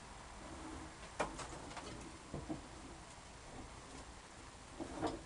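Long-distance racing pigeons cooing softly in a loft, a few low throaty coos spread out over a quiet background, with small ticking sounds in between.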